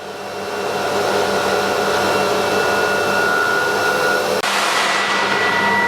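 A CNC router from the S series runs steadily with a loud, continuous whine and hum. It changes character slightly near the end, with no talk over it.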